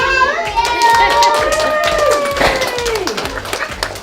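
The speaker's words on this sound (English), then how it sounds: "Can y'all clap?" An audience at a school foundation grant awards event claps for a grant winner, a lively round of hand claps with cheering voices and children's chatter mixed in throughout.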